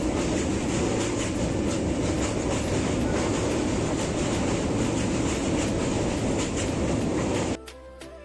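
Teesta Torsha Express passenger train pulling out of Naihati station, a loud steady rumble of wheels and rail clatter with rhythmic clicks, cutting to quieter cabin noise near the end.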